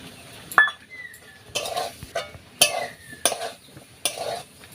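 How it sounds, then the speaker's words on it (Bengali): Prawns and elephant foot yam are stir-fried in a pan, with repeated sharp clinks and scrapes of a metal spatula against the pan over a faint sizzle, in short bursts. "এবার চিংড়িটা দিয়ে আরো কিছুক্ষণ কষে নেব।"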